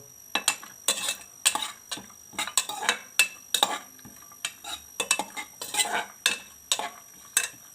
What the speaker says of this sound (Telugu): నూనె వేసి కొంచెము జీడిపప్పు వేసుకుంటున్నాను